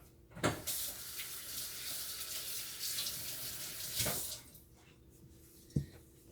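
Tap water runs steadily into a kitchen sink while hands are washed during home cooking, a continuous splashing hiss broken by a few louder splashes and clunks, close and alone.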